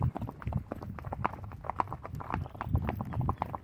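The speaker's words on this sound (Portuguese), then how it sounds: "Só no galope." Horse hooves beat in a quick, steady galloping rhythm while cattle are moved between farm pastures, close and clear, with faint voices in the background.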